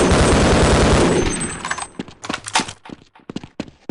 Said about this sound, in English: I think the shotgun and the sniper from Opposing Force use almost the same sound.